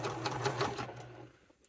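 A sewing machine basting a seam on a wallet with a long stitch length and a 1/4 inch seam allowance, running as a steady close mechanical whir for about a second before slowing and stopping.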